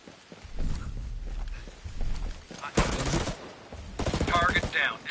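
Gunfire in the game Ghost Recon Breakpoint, with bursts of shots crackling in the middle and again near the end over low rumbling game sounds and footstep-like thuds.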